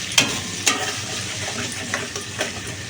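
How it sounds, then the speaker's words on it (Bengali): Onion and garlic fry briefly in a pan, a steady sizzling hiss punctuated by several crisp spatula scrapes against the pan at irregular intervals. "এটা বেশি ভাজার দরকার নেই অল্প একটু ভাজলেই হয়ে যাবে"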